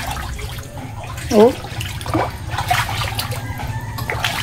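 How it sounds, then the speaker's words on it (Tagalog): Floodwater rushes through a flooded house in a steady, moderately loud flowing wash, with a short exclamation and some talk over it. "Bilis ng tubig"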